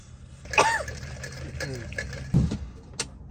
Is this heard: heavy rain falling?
no